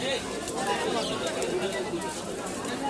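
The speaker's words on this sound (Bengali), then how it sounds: "অনেক চটপটা একটি কবুতর" Pigeons at a busy pigeon market coo and flutter in the background, faint and continuous beneath someone talking nearby.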